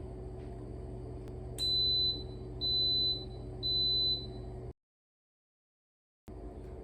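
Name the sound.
Instant Pot beeping when done pressure cooking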